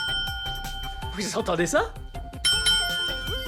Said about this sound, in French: Une sonnette! Écoutez!